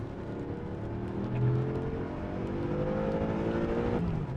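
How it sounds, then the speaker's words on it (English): A 2012 BMW M5 with its 4.4-litre V8 and M DCT gearbox revs hard inside the cabin, a dense, steady engine roar with rising harmonic sweeps climbing toward the limiter, loud and continuous with no talking. "Rev limiter."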